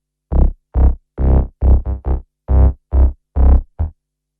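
A sub bass synth preset, compressed and sidechained, plays about ten short, punchy notes in a pulsing rhythm, deep and loud, alone with no voices.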